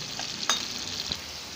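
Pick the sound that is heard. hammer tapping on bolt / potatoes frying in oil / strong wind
potatoes frying in oil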